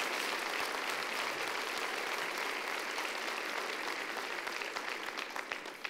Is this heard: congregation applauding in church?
yes